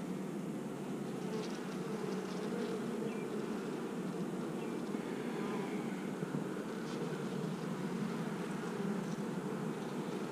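A steady, dense buzz of many honeybees fills the air around an open two-frame nuc hive, continuous and moderately close with no pauses.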